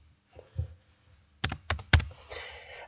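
Keystrokes on a computer keyboard as a search term is typed into an online search box: a few scattered soft taps, then a quick burst of sharp clicks close up, with no talking.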